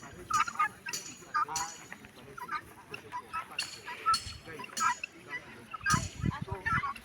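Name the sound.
guinea fowl calling while grazing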